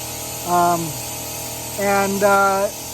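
A small electric pump extracts rear differential fluid from a vehicle whose fluid had gone about 120,000 miles unchanged, giving three short, close whining motor bursts, the first falling off in pitch, over a steady low background hum.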